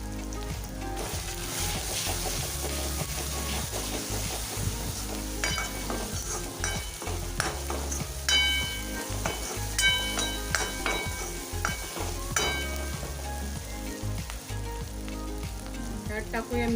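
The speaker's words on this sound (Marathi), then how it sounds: "आपण ह्याच्यात टाकूया कोल्हापुरी लाल मसाला." Onion and tomato frying with Kolhapuri red masala, a loud dense sizzle with constant clattering and scraping of a spoon in the pan, continuing steadily throughout.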